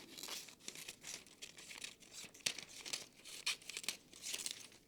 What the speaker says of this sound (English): So if I cut down the center of my normal circle,